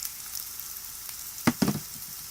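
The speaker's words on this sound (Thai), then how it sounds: "ตำให้เข้ากันแล้วก็ลงไปผัด ประกอบไปด้วยพริกกับกระเทียม" Pounded chili and garlic stir-fried in a pan for beef basil stir-fry, a low, even sizzle with a couple of brief scraping clatters of a spatula near the end, close and without talking.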